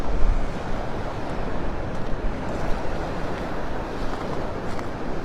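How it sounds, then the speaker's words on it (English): Steady surf breaking along Vanderbilt Beach in North Naples, Florida, under a northwest wind of about 11 to 15 mph, a continuous close wash of waves mixed with wind rumble on the microphone. "That wind coming out of the northwest at about 11 to 15 miles an hour, so it's kicking up the waves"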